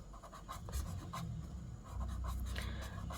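Pen scratching on paper as numbers are written by hand for a class 5 math problem, soft close scribbling strokes in short bursts over low background hum, with no talking.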